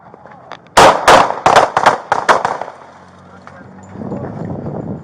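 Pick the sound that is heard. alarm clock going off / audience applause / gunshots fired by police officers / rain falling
gunshots fired by police officers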